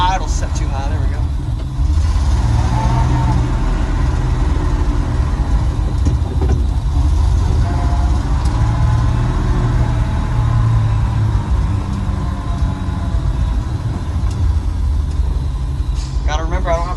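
A rusty old Ford truck, running again after twenty years and with its idle set too high, runs steadily and loudly while reversing, a constant low rumble with voices talking over it.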